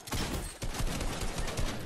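Dense, continuous gunfire from the video game Fortnite rattles in a steady barrage for the whole stretch, loud and close, with a brief dip near the start.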